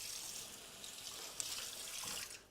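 A kitchen tap runs steadily in a home kitchen during meal prep, a continuous close hiss of pouring water with a faint splash near the end.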